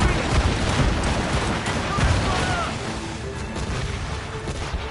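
Naval battle aboard a ship in Assassin's Creed Rogue, with cannon fire booming in dense overlapping volleys under rumbling noise, loud and continuous throughout, with voices faintly mixed in.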